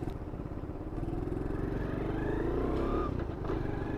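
A 2015 SYM Symba small motorcycle being ridden, its engine giving a continuous buzzing drone that rises slightly as it accelerates, close and steady.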